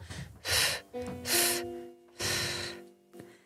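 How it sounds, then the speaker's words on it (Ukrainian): Three deep, audible breaths are drawn in, each a long rushing inhale with a short pause between them, close and loud during a singing lesson. A faint sustained tone sounds under the breathing. "Зараз набираємо дихання, затримуємо його."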